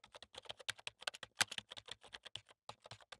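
Rapid keystrokes on a computer keyboard while Python list code is typed, a quiet, close run of irregular clicks with one sharper tap partway through and no voices.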